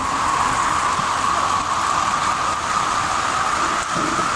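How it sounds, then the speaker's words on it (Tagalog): Heavy typhoon rain pours steadily in Antipolo City during Typhoon Enteng, a loud, unbroken hiss with no pauses and no voices. "Kasi tuloy-tuloy pa rin yung ulan."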